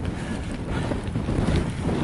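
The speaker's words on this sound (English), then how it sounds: "I think it's like 35-mile-an-hour gusts today. This is proper windy." Strong gusty wind roars across the microphone during an off-road bike ride, a broad continuous buffeting rush that swells and dips, loud and close, with no talking.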